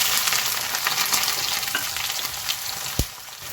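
Whole cumin and raw onion fry in hot oil for a duck curry, a steady close sizzle with light stirring scrapes and one sharp tap near the end, with no voices.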